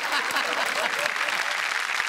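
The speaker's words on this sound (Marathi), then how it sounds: "संदीप पाठक सर आलेले आहेत, त्यांच्यासाठी खरंच जोरदार टाळ्या." Studio audience applauding Sandeep Pathak on the Marathi comedy show Chala Hawa Yeu Dya, steady dense clapping throughout a short burst with no speech.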